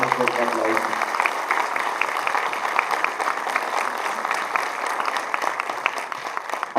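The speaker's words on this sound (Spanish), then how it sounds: "les pido por favor un fuerte aplauso" Dense, steady applause from a symposium audience, loud and continuous for the whole stretch, with a voice briefly audible at the start.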